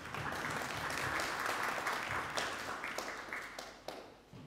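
A large audience gives a sustained round of hand clapping, a dense steady wash of applause that slowly thins toward the end, heard without any speech over it.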